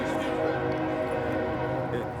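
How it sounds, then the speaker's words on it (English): A passing train sustains a droning horn blast, loud and continuous throughout, at an outdoor Christmas tree lighting ceremony, with voices of the crowd faintly mixed underneath. "I'd like to wait for the train to go by"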